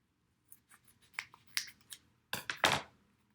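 Scissors snipping open a small packet of dry active yeast: a run of light, crisp snips and rustles, ending in two louder, sharper cuts and crinkles, close by with no talking.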